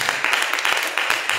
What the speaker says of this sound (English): Let us give God a hand clap of praise.